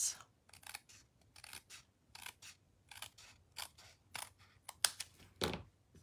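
Scissors snip through paper while making a Wildflower Birthday Suite card, with a steady run of crisp, close cuts in a loose rhythm, each snip distinct and fairly loud against near silence.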